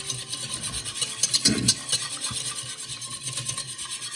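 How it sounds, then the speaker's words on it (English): A sugar and yeast mixture being whisked in a bowl, a steady close rhythmic scratchy swishing with a brief louder stroke partway through, continuing throughout. "We're going to whisk it up."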